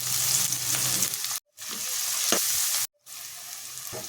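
Green chillies, curry leaves and finely chopped onions sizzle in hot oil in a pan, with occasional stirring scrapes; the steady frying hiss breaks off briefly twice, then resumes.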